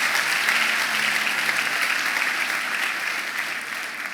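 A church congregation applauds during a sermon, giving a sustained, even wash of clapping with no voices on top, fading slightly toward the end.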